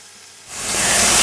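Chicken frying over a medium-low flame: quiet at first, then a broad hissing sizzle swells up and holds loud and close.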